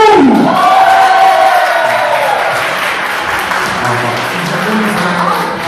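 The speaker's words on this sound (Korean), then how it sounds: "박수!" An audience at a church Thanksgiving rap and scripture contest breaks into loud applause and cheering, with shouts and whoops over steady clapping that carries on throughout.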